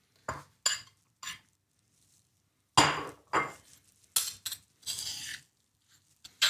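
Coconut and onion sambol pounded in a mortar, giving several sharp knocks and clinks in uneven bursts, close and fairly loud, with short pauses between strikes.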